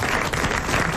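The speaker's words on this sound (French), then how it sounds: "Et vous applaudissez Monsieur Naudin de Charleville." A television studio audience breaks into applause, a brief, loud, dense burst of clapping from many hands with no speech over it.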